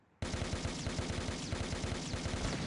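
A machine gun in the SD Gundam Online video game opens up after a short silence, firing a steady rapid stream of evenly spaced shots that runs continuously to the end.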